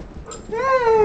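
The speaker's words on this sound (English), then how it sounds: "You're a very smart dog." A dog gives a short, close, high-pitched whimper that rises into a thin yip, loud and alone for about a second.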